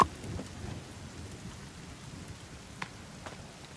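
Rain falls in a forest as a faint, steady patter, with a few sharper drops standing out from the soft background hiss.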